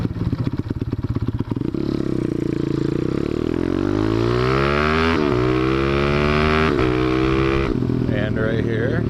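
Motorcycle engine revving hard during a wheelie, loud and close, the pitch climbing steadily through the gears with brief dips at each shift.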